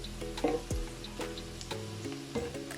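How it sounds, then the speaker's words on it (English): Onions frying in a pan for a vegetable breyani give off a steady, close sizzle with bubbling crackle throughout, broken by occasional stirring scrapes and clinks of a utensil. "Our onions is now fried nicely."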